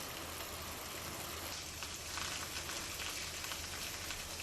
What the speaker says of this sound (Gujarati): તાલુકાના ગ્રામ્ય વિસ્તારોમાં ધીમી ધારે વરસાદ શરૂ।